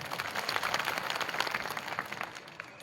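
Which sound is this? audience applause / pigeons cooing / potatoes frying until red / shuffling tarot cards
audience applause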